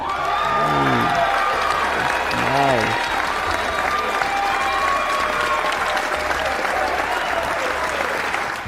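A crowd applauds steadily with scattered cheers at the 2024 Heisman Trophy announcement for Travis Hunter, the sustained clapping continuing throughout while a voice talks over it early on.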